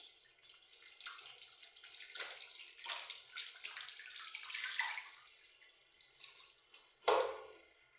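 Tap water runs in an apartment bathroom under construction in Ghana, fed straight from a Polytank without a pump, a fairly quiet, uneven splashing flow that swells and fades, then a sharper splash near the end.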